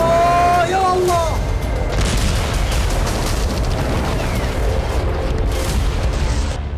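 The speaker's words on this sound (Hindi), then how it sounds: "उड़ता हुआ ये रॉकेट अचानक फट जाता है।" Loud, dense roar of a rocket blowing apart in mid-air over a Gaza hospital, a sustained rumbling blast filling the scene from start to end, with shouting voices at the opening.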